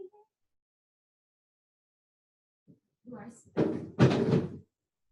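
A door bangs shut on someone's hand at home, two close thuds, the second louder, with a brief pained voice around them after near silence.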